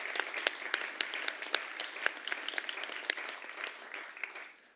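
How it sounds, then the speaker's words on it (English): Modest applause at a Grade 6 celebratory ceremony honoring a top achiever, individual claps clearly distinct in an uneven patter that softens and trails off at the close. "Let's give her a round of applause."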